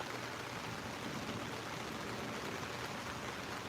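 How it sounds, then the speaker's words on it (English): Steady rain falls beside a swimming pool, a soft, even hiss of drops with no pauses and no voices, fairly faint throughout. "When will the rain end? I feel like it's been raining for months."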